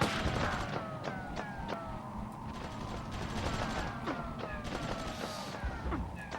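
Faint, scattered gunshots from the PlayStation toy-soldier war game Army Men: Land Sea Air crackle far off over a low, steady ambient rumble, with no pause in the distant firing.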